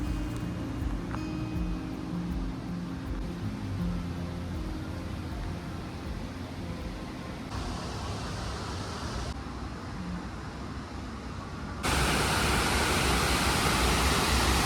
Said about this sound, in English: the river is actually flowing just in the open there underneath